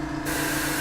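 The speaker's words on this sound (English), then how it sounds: "So there's the airbrushing bits." Airbrush spraying paint onto a model for decal weathering, powered by a compressor: a steady close hiss that starts abruptly after a brief quieter moment and holds evenly to the end.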